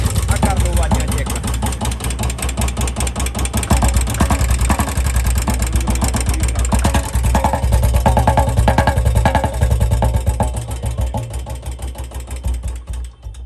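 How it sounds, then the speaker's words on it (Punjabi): Royal Enfield Bullet UCE motorcycle engine with a hydraulic tappet fault running loud and close, a rapid steady thumping idle with a fast ticking rhythm throughout. "ਆਹ ਦੇਖ ਲਓ ਜਦ ਆਪਾਂ ਸਿੰਪਲ ਕਿੱਕ ਮਾਰਦੇ ਆ ਬਾਈ, ਜਿਹੜੀ ਇੱਕ ਹਾਈਡ੍ਰੋਲਿਕਾਂ ਦੀ ਆਵਾਜ਼ ਹੁੰਦੀ ਆ"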